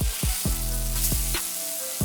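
Chopped tomatoes sauté in a pan for hotel-style tiffin sambar, a loud, close sizzle and crackle with repeated scraping stirs from a spoon at a quick, uneven rhythm.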